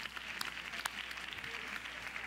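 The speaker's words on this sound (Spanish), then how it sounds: "Un aplauso." Applause from a theatre-awards audience in Mexico City, a faint, steady wash of distant clapping with a few sharper claps standing out.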